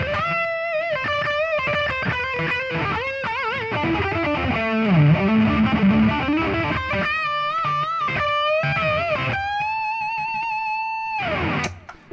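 A distorted electric guitar plays a solo in a recording studio, with sustained singing notes, bends and quick runs over about twelve seconds before the sound stops abruptly. No one speaks.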